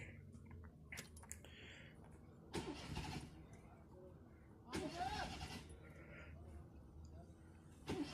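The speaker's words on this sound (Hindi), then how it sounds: "ये देखें मैं अभी गाड़ी स्टार्ट करने लगा हूँ" A car with misfiring and starting trouble is cranked after tuning, giving a few short, faint starter bursts spaced several seconds apart against a quiet background.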